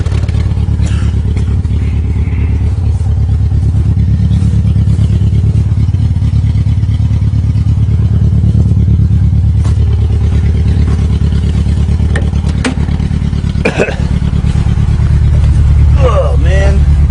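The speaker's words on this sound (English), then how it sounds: "you can just tell by cranking it's got bad compression on one cylinder" A 1994 Tracker engine cranks and runs roughly on a cold start with bad compression on one cylinder, a loud continuous low rumble with clattering, while voices talk over it.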